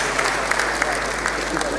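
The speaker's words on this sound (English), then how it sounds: "Please, another applause for Mr. Governor of Lagos State." Audience applause for the Governor of Lagos State at a town hall meeting on security, a dense steady wash of many hands clapping close by for the whole short stretch.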